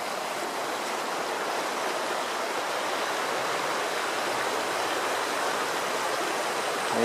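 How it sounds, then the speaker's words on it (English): River at Sarn Aberkenfig runs low in November, giving a steady, close, broadband rush of flowing water with no pauses and no voices. "it's been quite a while since I've seen the river down this low in November"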